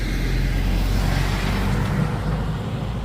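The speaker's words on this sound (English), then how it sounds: "You can hear the traffic coming anyway" Road traffic passes a roundabout, a loud continuous roar of car engines and tyres close by with no pauses.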